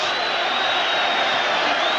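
A boxing arena crowd roars in sustained, loud cheering at the end of the Barry McGuigan versus Eusebio Pedroza title fight, a dense wall of whoops and shouts with no pauses.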